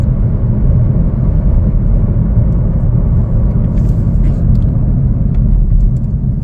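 A 2025 Chevrolet Trailblazer AWD LT on a test drive, heard from inside as a loud, constant low road and engine rumble that holds steady throughout with no talking.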